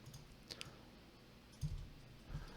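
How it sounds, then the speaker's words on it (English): Keys are pressed on a computer keyboard for a copy command, giving a few quiet, separate clicks spread over a hushed background. "we'll copy Control-C on our keyboard"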